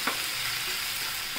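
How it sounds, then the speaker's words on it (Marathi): Cumin and onion frying in hot oil for a radish dry bhaji, a steady, loud, close sizzle with a faint stir near the start and end, no voices. "आता तेल तापले, आपण त्याच्यात जिरं टाकूया, कांदा टाकूया"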